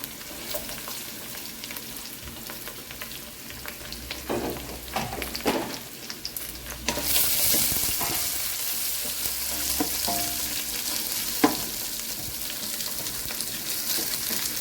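Steady sizzling of onions and green chillies frying in a pan, with occasional stirring scrapes and clinks; the hiss swells louder partway through and continues without any voices.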